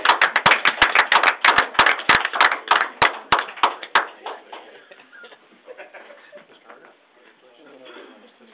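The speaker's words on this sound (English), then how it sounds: "Should be a round of applause" A small group in a city council meeting room claps after an oath of office, sharp close claps at first that thin out and trail off, followed by quiet murmuring in the room.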